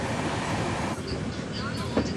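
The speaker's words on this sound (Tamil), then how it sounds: "கிட்டத்தட்ட 110 115 ஸ்பீடில் ட்ரெயின் போயிட்டுருக்குங்க." Coimbatore Intercity express train running at about 110 to 115 km/h, heard from inside as a steady, loud broadband rumble and wind roar with faint rail squeaks and clicks throughout.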